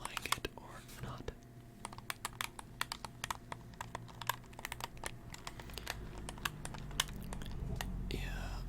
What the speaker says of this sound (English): a PS5 controller right here, and I'll just give you some controller sounds